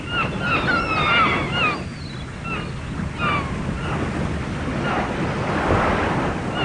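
Waves break and wash continuously on the three-kilometre beach of Kolavipalam near the Iringil River estuary, with wind buffeting the microphone and a broad, rolling surf roar throughout, no talk.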